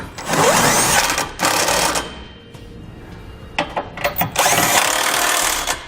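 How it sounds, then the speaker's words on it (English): Bursts of a power tool snugging trailer hitch bolts with a socket on a 2019 Dodge Grand Caravan during a Curt hitch receiver install, loud whirring runs separated by short pauses and a few quick clicks. "Now I'm going to come back with the appropriate socket. I'm going to snug up all my hardware."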